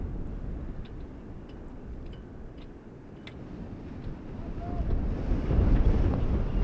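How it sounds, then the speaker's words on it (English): Gusting wind buffets an outdoor camera microphone in center field at a high school baseball game, a steady low rumble that swells louder toward the end, with no talk. "wind picking up, trying to blow not only the camera, but the cameraman over as well"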